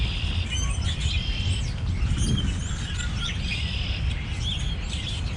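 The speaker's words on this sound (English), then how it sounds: "my bird feeders are visited by mourning doves, blue jays, cardinals, chickadees, starlings, and grackles" Small birds such as chickadees, cardinals and blue jays chirp at winter bird feeders, with repeated bright tweets and calls over a steady low outdoor rumble throughout.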